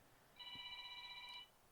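A mobile phone rings once with a short electronic tone from a spam caller, a steady, faint, clean chime lasting about a second against quiet room noise.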